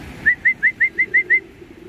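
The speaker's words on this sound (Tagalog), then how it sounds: "Ayan, yung dubar guys." A dubar pigeon gives seven evenly spaced coos in a steady rhythm, clear and fairly close over a low background rumble.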